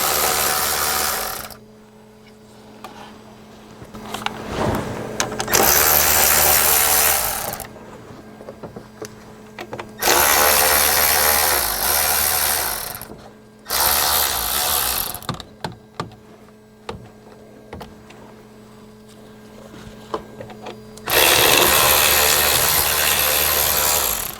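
A power tool whirs in several separate bursts while removing the bolts holding the silencer on a Dodge Sprinter van, loud and close with quiet gaps and clicks between runs.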